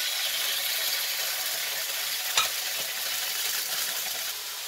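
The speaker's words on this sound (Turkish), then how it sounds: "Şimdi ocağımda orta ateşte tavuklarımı koyacağım." Steady loud sizzling of chicken pieces for döner frying in a pan over medium heat, a dense crackle with a few sharper pops and a metallic scrape partway through.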